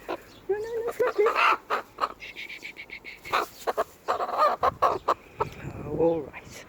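Three-month-old silkie chickens cluck and squawk in short, uneven bursts while being held, with a person talking softly over them throughout.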